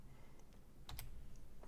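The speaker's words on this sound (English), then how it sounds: "we're going to hit F9 on the keyboard" A few faint clicks from a computer keyboard, including an F9 key press, sound close in a quiet room, with a sharper cluster of taps near the middle.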